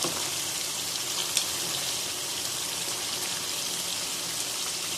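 Boiled chickpeas fry with koftas in a pan over low heat, giving a steady, even sizzle throughout, close and moderately loud with one brief clink.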